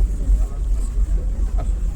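A speedboat engine rumbles low and steady on the water near Moheshkhali, with wind buffeting the microphone and faint talk.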